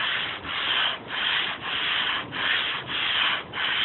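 Hand sanding a wooden butcher block table top with 150 grit sandpaper: steady rhythmic back-and-forth scratchy strokes, close and even, with brief pauses between passes and no voices.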